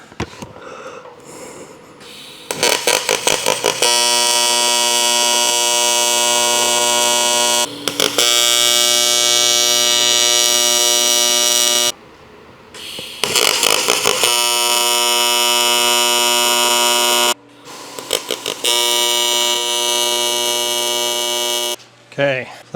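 Tack welds are struck on a metal UTV cargo box: four loud, steady electric buzzes, each lasting a few seconds, with short pauses between them.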